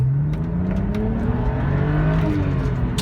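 A 2009 BMW 128i convertible engine pulls steadily toward its 7,000 rpm redline, a continuous rising whine and growl heard from inside the moving car without speech.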